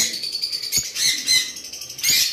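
Lovebirds in a cage chirp and tweet in quick high bursts, with several short call clusters near and fairly loud, no voices.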